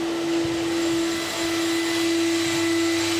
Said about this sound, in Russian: Вот он, пылесос.